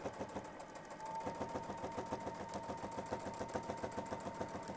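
A sewing machine tacks quilting stitches along a border with a Westalee sampler ruler, its needle running in a fast, steady mechanical rhythm that picks up after a brief pause and continues close and even throughout.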